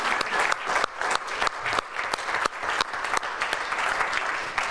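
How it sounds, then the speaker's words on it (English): A crowd claps steadily in continuous applause, dense and even throughout, with no voices standing out. "we take a moment and give Jean Henshin a round of applause"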